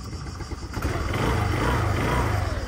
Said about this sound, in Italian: Per il resto il motore in teoria funziona bene, infatti si accende ancora elettricamente